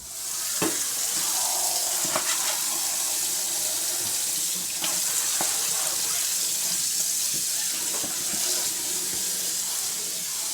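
Water running steadily from a tap while grow room shelves are washed, a continuous close splashing hiss with occasional clunks and knocks of the shelves being handled, no talk.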